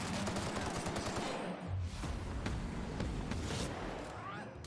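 Gunfire from the video game The Outer Worlds: Peril on Gorgon sounds as a string of quick sharp shots against a dense rumbling background, fairly close, then tapers off near the end.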